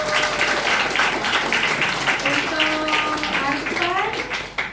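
Applause from an audience at a student teachers' national month program, steady dense clapping lasting throughout, with children's voices and chatter mixed in underneath.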